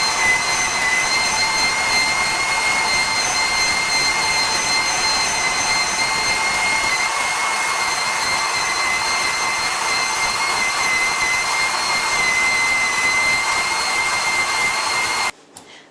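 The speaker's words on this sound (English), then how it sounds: "It's actually my KitchenAid mill, grinding mill" A KitchenAid grain mill grinds grain into flour in a loud, steady whirring drone with a high motor whine, running continuously and close up before cutting off abruptly at the end.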